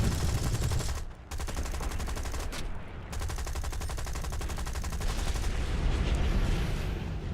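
Aircraft guns in War Thunder strafing ground targets: a dense, continuous rattle of rapid automatic fire, loud and close, broken by two brief gaps near the start.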